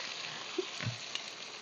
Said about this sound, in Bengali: পেঁয়াজ আর আলুটা ভাজা ভাজা হয়ে যাবে